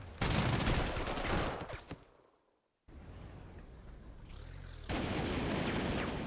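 An AA gun fires in support of an attack in the strategy game Panzer Corps 2: loud, dense bursts of rapid gunfire, a short lull with a fading tail, then a quieter rumble before heavy firing resumes.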